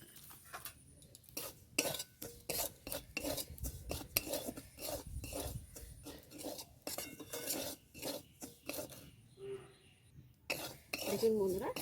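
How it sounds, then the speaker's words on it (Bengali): Semolina is lightly dry-roasted in a pan for modak, with repeated uneven scraping and clinking spoon strokes close by, a faint cough, and muffled voice in the background. "সুজিটা এবার আমি হালকা করে ভেজে নেব, যাতে কাঁচা গন্ধটা সুজির চলে যায়"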